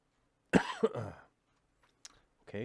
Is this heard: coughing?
yes